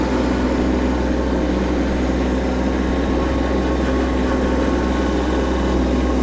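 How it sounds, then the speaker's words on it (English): Tractor fitted with Goodyear R14 ag tires, driving in high range on asphalt: a loud, steady engine drone with a deep low-frequency hum and constant road rumble, no pauses or talk. "So we're going to put the tractor here in high range and go out here on the asphalt."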